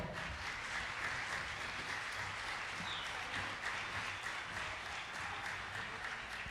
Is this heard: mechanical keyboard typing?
no